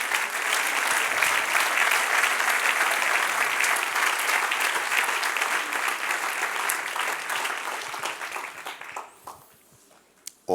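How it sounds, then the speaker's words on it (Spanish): A church congregation bursts into sustained, dense applause that holds steady for about eight seconds, then thins and fades to near silence. "Dale un aplauso al Señor."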